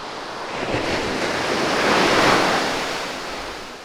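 Ocean surf rolls onto a beach in the aftermath of Hurricane Lidia, a broad steady roar of breaking waves swelling louder midway, with wind buffeting the microphone and no voices.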